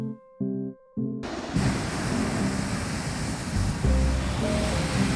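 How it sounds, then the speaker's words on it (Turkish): After a brief musical tone, a loud, steady roaring blast from a hot air balloon burner starts and holds, broad and rushing, with faint music beneath. "Uçan balonlar böyle ses çıkarır."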